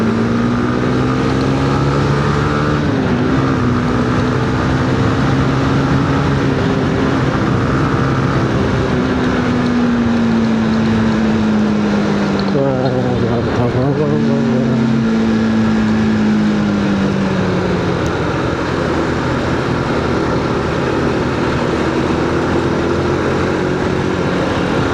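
Honda CB150R motorcycle engine accelerating while riding, a loud close droning engine note rising in pitch through the gears with wind rush throughout.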